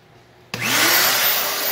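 A car wash vacuum cleaner switches on abruptly after near silence, then runs as a strong, steady, rushing whine that holds loud and close.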